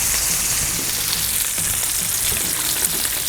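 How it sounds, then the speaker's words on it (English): Bacon strips sizzle and crackle steadily on a hot Blackstone griddle, a dense continuous frying hiss with small pops and no talking. "It's hard to beat bacon on this griddle."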